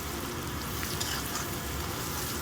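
Meal maker chunks frying in a pan with turmeric give a steady, dense sizzle and crackle, close and even throughout, with no talking.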